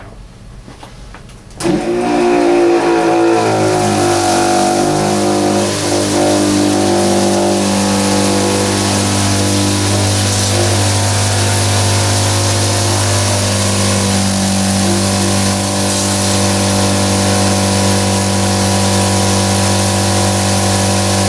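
A crop sprayer nozzle switches on and sprays pesticide at high pressure, a sudden loud onset followed by a steady, powerful hiss over a constant pump drone that continues unbroken.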